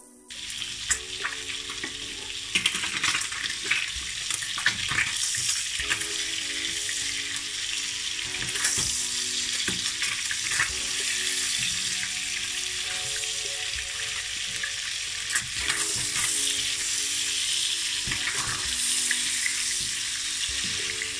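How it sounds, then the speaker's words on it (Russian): Salmon pieces fry in butter in a pan with a steady, close sizzle and crackle. Occasional stirring clatters come through and no one talks. "Разогреваю сливочное масло. И обжариваю кусочки рыбы."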